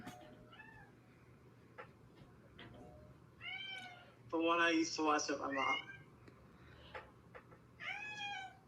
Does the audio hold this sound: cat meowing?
yes